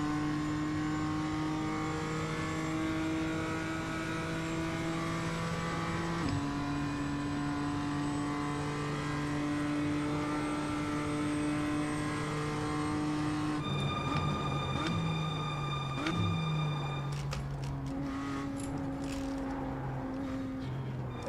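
A BMW M2 Cup race car engine at Daytona holds a loud, steady whine that climbs and drops through gear shifts, continuous and close, with no talking.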